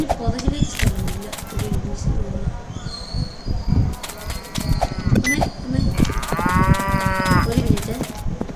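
A bull in the Roblox game moos loudly several times with long, drawn-out calls over a rural backdrop of faint insect chirps.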